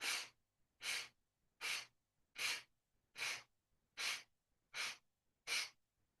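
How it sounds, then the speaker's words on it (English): Guided breathing exercise with exhales and inhales alternating through the right side: eight evenly spaced, breathy rushes of air, each about half a second long, separated by clean silences, close and alone. "Exhale, right in 8. Inhale, right, 8."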